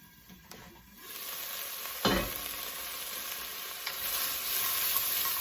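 Onions browning in a pan for soon dubu jjigae, a bright, dense sizzle that swells in after a quiet start and holds steady, with one sharp clatter midway, close up and with no talking.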